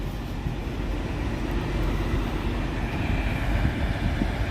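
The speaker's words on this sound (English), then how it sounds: "Longest metro ride I've taken now, I guess." A Montreal metro train rolls along the line, a loud continuous rumble and roar heard from inside the car, steady throughout with no talking.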